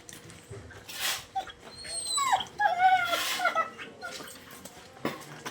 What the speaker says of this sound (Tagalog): Mga aso namin, no.